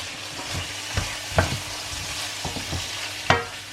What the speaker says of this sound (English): Just softening the onions